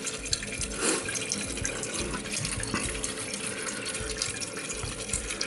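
Toilet tank refilling with iron-rich water during a leak repair, a steady broadband hiss and gurgle of running water, close and continuous with no one talking.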